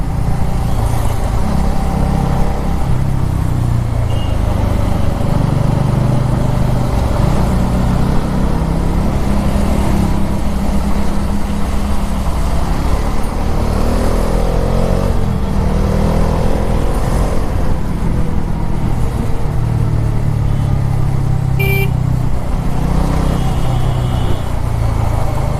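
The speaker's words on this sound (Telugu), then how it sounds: "ఇప్పుడు ఇక్కడ ఎంత ట్రాఫిక్ ఉందో ఏమో." Busy road traffic flows steadily nearby, with cars, trucks and motorcycles rumbling and occasionally revving in an unbroken, fairly loud stream of engine noise.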